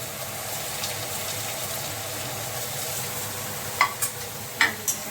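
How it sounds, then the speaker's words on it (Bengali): Cauliflower fries in hot oil with nigella seeds, dried red chillies and green chillies, a steady close sizzle throughout, with a few sharp clinks and scrapes of stirring near the end and no voices. "তেলের মধ্যে দিলাম কালো জিরে আর শুকনো লঙ্কা, দিয়ে ফুলকপিটাকে দিয়ে দিলাম।"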